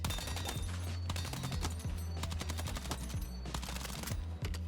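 Rapid automatic SMG fire rattles in a Battlefield REDSEC battle royale match, with dense bursts of shots over a constant low game rumble. It is loud and continuous, with brief pauses between volleys and no talking.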